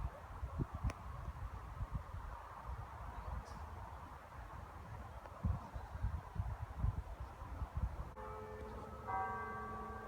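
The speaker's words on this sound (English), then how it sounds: "that's quite ironic that bell will ring at 4 o'clock while we're standing here" A church bell in Ireland strikes four o'clock, entering near the end as a clear ringing tone over outdoor wind and rustling, after a stretch of quiet ambient noise.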